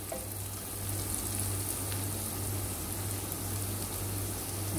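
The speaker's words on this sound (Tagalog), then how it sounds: "Halo-haloin lang natin hanggang maluto yung sibuyas, lumambot yung sibuyas" Onion and garlic sauté in a pan, giving a steady, soft frying sizzle with fine crackle throughout and a constant low hum underneath.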